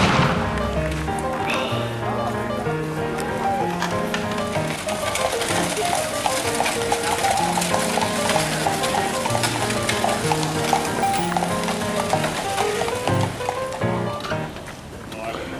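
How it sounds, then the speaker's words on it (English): Horses pulling a carriage on a ride at Colonial Williamsburg, hooves clip-clopping in a steady rhythm beneath a constant, busy wash of other sound, while people talk nearby. "And now it's time to take our carriage ride."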